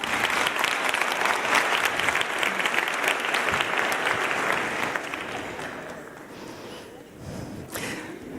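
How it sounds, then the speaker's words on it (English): At a children's launch event in Namibia, an audience claps loudly for a birthday girl, dense applause holding for several seconds before tapering into lighter scattered claps and murmuring voices. "let's give her a round of applause"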